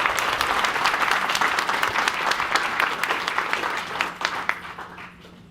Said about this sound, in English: How about a round of applause for our officers?